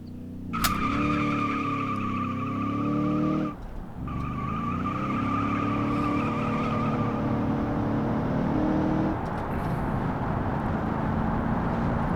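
Car in BeamNG leaving the drag strip onto low-traction ground, engine roaring steadily through the gears while tires squeal and skid continuously over it, with a brief dip at a gear change and rougher rumble toward the end.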